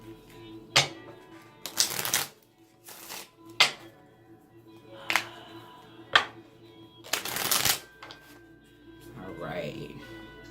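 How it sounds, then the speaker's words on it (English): Close-up tarot card handling: sharp slaps and quick riffling flips come in irregular bursts, with brief pauses between them. "We'll go ahead and start flipping these cards that were already shuffled."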